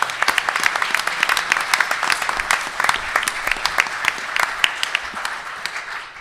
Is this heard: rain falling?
no